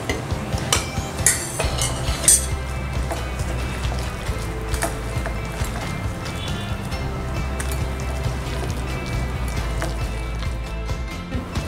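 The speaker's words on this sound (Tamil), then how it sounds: "தேங்காய், கருவேப்பிலை, கொத்தமல்லி எல்லாம் போட்டு நல்லா பிசையணும்." Kunukku batter mixed by hand with coconut, curry leaves and coriander, wet squelching and stirring with a few clinks of a vessel, steady and close, no talking.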